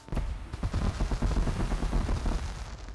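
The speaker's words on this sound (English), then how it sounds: "Fireworks!" Fireworks burst in the video game Project Spark: a rapid, dense crackle of booming pops and bangs that runs for a few seconds, loud and close.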